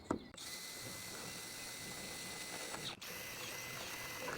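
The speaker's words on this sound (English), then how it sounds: "we're just going to drill through there and then pop the little small screw bolts in" A power drill fitted with a 3mm bit bores through a campervan panel, giving a steady whirring grind for about four seconds, with a short break near the start and another near the end.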